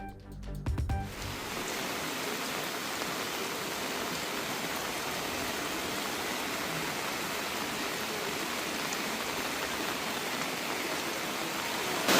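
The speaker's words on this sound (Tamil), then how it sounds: "டிட்வா புயல் காரணமாக நாகையில் வெளுத்து வாங்கும் கனமழை." Heavy cyclone rain from Cyclone Ditwah pouring down in Nagapattinam, a dense steady roar of rainfall that holds at full strength for the whole stretch, with a brief louder knock right at the start.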